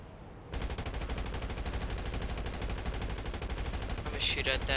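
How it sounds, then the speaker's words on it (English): Rapid, sustained automatic gunfire in the FiveM GTA V roleplay game, a dense stream of shots starting abruptly and continuing steadily to the end, with a brief mid-pitched burst near the close. "I'm gonna shoot at that a little bit."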